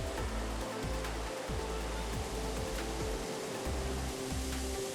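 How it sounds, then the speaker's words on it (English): The Thiba River cascades down from the Mount Kenya moorland as a continuous, dense roar of rushing, falling water, steady and close throughout. "As the river cascades down,"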